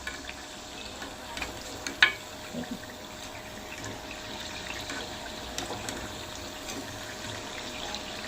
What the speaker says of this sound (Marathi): आणि असंच मंद गॅसवरती आपल्याला ही चकली तळून घ्यायची.